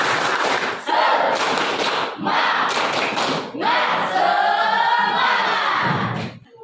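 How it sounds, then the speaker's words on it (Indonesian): Schoolchildren in a classroom do a rhythmic spirit clap, with bursts of patterned group clapping and chanting voices in several loud sections separated by short pauses. "kita tepuk semangat lagi biar lebih semangat ya"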